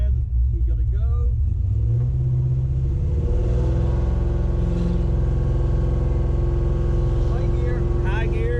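Ford F100 truck fitted with a Holley carburetor pulling away from a stop, its engine rumbling low and building steadily in pitch as it accelerates, heard from inside the cab with people talking over it.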